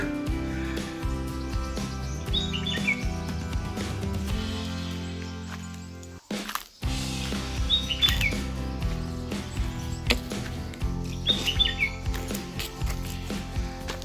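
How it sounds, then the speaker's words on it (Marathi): Birds chirp in short bright bursts against a steady mechanical hum, the calls coming in a few scattered clusters. "मस्त वाटतं ना पक्ष्यांचा आवाज"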